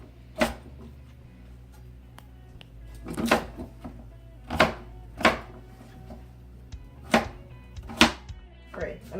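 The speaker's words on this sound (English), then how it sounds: "I'm going to do the fries kind of thick." Knife chopping yuca into thick fries on a cutting board, about nine sharp, evenly spaced thunks over several seconds, close and fairly loud, with quiet kitchen handling sounds between cuts.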